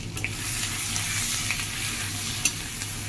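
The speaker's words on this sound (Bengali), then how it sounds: "এটা আবার একটু কড়াইতে দিয়ে লাড়াচাড়া করে নামিয়ে ফেলবো" Oily sizzling as dried lotka fish paste is stirred in a hot wok, with soft scraping and a few light clicks of a utensil against the metal, no talking.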